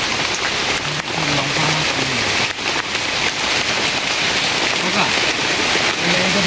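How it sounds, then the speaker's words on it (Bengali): Heavy rain pours down on a forest campsite with no tent, a dense and loud continuous hiss of drops striking surfaces close by, with brief bits of voices under it. "বাইরে তো চরমভাবে বৃষ্টি শুরু হয়ে গেছে"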